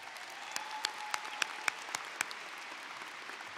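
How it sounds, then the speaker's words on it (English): Sparse applause from a small audience at a high school graduation, a handful of distinct claps standing out over a soft, continuous background patter. "I think that deserves another round of applause."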